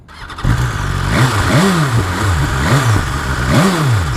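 A 2019 BMW S1000RR sports bike with its standard exhaust fires up and is blipped through several rising and falling revs, loud and close, with no one speaking.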